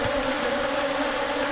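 A swarm of giant honey bees (Apis dorsata) pours out of their forest nest, making a continuous, dense buzzing drone that stays steady and close throughout.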